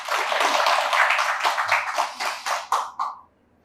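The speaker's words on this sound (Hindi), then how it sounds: "ताली बजाए प्रभुपाद।" Rhythmic hand clapping during a Hindi Srimad Bhagavatam class, a few seconds of steady claps that thin into separate strokes and stop abruptly, fairly close and clear.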